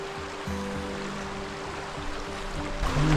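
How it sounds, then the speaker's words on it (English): A mountain creek in the Sawtooths rushes steadily nearby, a constant broadband flow of water with a faint tonal hum running underneath. "And of course the creek."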